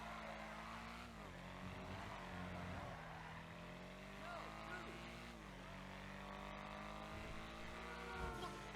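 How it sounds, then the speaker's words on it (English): Obey 8F Drafter engine in the video game GTA Online, a steady droning car engine with rising and falling revs and gear shifts, heard fairly evenly throughout. "The Obey 8F Drafter is a very interesting car in Grand Theft Auto Online. It shares the sound with the Benefactor Schlagen GT"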